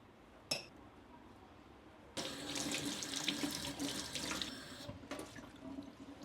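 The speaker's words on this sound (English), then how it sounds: "I actually just wash the oil off them" Tap water runs quietly over oily food being rinsed in a sink, starting after a brief clink and flowing steadily with slight splashing.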